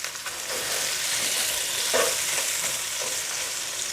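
Cajun chicken browning in a hot pan gives a steady, dense sizzle that runs close and unbroken throughout, with no voices.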